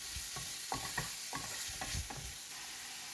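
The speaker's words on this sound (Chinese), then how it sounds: "再用剩余的油炒一炒。" Diced shrimp stir-fried in leftover oil in a wok, with a low steady sizzle under a run of scraping spatula strokes, about half a dozen close, even stirs, then the sizzle alone.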